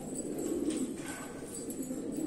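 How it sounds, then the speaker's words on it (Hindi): Pigeons settled on the floor of a loft give soft, low cooing under a constant hum of room noise, faint and close. "तो आप देख सकते हैं सारे कबूतर नीचे बैठे हुए हैं"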